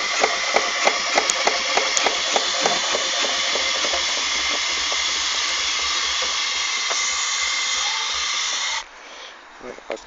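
Steam hisses in a loud, steady, close roar from a steam locomotive with its blower turned on, with faint mechanical ticks running through it. After about nine seconds it drops away abruptly, and quieter background noise remains.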